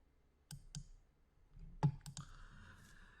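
Computer mouse clicks in a software dialog, several crisp, close taps spread across a quiet room, with no one speaking.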